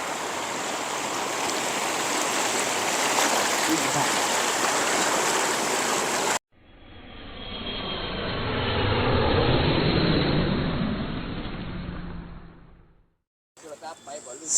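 Steady rushing roar of the Kaeng Pla Kaew waterfall at Ban Bung Khiao, Thailand, loud and continuous, then a cut to a softer, swelling water rush that fades out.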